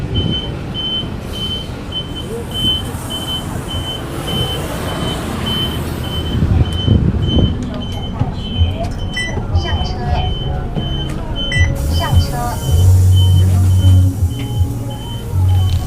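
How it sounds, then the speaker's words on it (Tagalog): City bus pulling up at a stop in Taiwan, with a steady engine rumble and hiss amid street noise and a repeated electronic beep, heavy and close. "So, nandito na yung bus, mga Kalagan."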